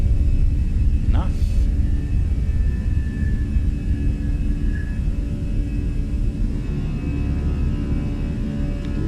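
Fenix A320 airliner engines roaring on the takeoff roll in Microsoft Flight Simulator: a loud, steady, deep rumble that holds throughout with no talk.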